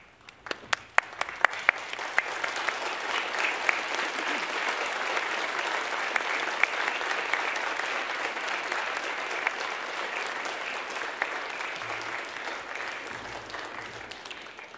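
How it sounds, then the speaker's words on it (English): A university graduation audience stands and applauds loved ones in an indoor ceremony hall, steady dense clapping that starts with a few sharp claps and holds for the whole span. "I ask that you stand up, face your loved ones and give them a big round of applause."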